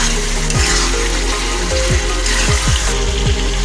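Food being sautéed and stirred in a pan, a loud close wet sizzle with repeated scraping strokes of the spoon every half second or so; no voices.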